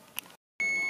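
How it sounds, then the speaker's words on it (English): A kitchen oven timer sounds while sweet potatoes roast, giving a short, loud electronic tone after a brief silence. "There's our timer."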